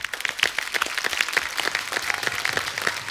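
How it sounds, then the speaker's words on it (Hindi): A studio audience at a TV comedy show claps for a karate gold medalist, producing brisk, close, crisp applause with clearly separate hand claps in a lively, even rhythm. "आपके लिए पहले तो तालियां।"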